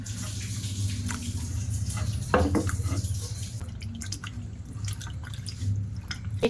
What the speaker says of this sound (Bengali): গাজরগুলো পরিষ্কার জল দিয়ে ধুয়ে নেব